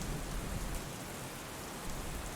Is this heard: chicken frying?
no